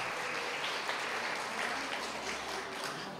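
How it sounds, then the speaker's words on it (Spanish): Applause at a school award ceremony in 2012 as a primary pupil is called up: a continuous, even roar of clapping from a large crowd in a hall, unbroken and without speech. "fuertes aplausos para él"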